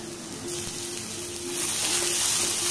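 Coriander sautés in a hot pan on a gas stove as a steady, hissing sizzle that swells louder partway through, close by and with no talk over it.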